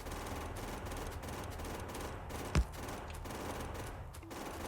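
Gunfire from shooting trees in the video game Factorio, with rapid bursts of shots and one sharp, louder crack standing out, heard faintly at low volume.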